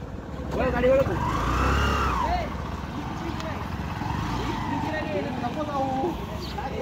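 A motorbike engine runs steadily while being taken out among friends at a Rangpanchami celebration, the low motor rumble sitting under loud overlapping voices calling out.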